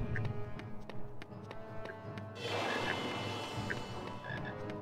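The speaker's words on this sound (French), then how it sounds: "Je vais essayer d'aller attraper la petite choco-grenouille." Croaking from a chocolate frog in a Harry Potter video game, game music playing throughout with a denser, louder burst of croaks and hiss partway through.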